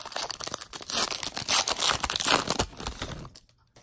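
Foil packs of 2019 Elite football trading cards are torn open, a continuous crinkling and ripping that stays close and loud for about three seconds before it drops to near silence.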